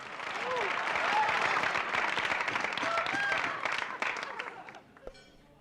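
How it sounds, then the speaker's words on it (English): An open mic night audience breaks into sustained applause, with dense clapping and crowd noise holding steady before fading out near the end. Scattered voices and cheers mix into the clapping. "Ladies and gentlemen, please give him your round of applause."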